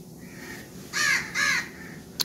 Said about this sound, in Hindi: कौवे भी उड़ रहे हैं, चील भी उड़ रही है।